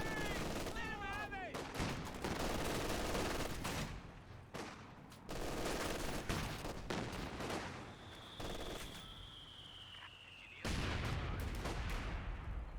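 Rapid bursts of gunfire and heavy cannon shots in a Company of Heroes 2 battle with T-34 and Panzer IV tanks, loud cracks and booms in clusters, with a whistling shell streak and commentary talk running over it.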